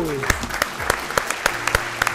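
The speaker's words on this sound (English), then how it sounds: "Give him a big round of applause." Studio audience on an Asian quiz show applauding, with sharp regular claps standing out over a background of clapping while voices and music murmur underneath.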